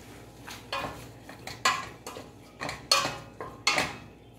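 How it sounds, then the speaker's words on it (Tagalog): Sautéing in a pan at a home kitchen: a quick series of metallic scrapes and clinks from a utensil against the pan, close and moderately loud, falling in an uneven rhythm with a faint sizzle underneath, with no talking. "Gigisa natin to, guys"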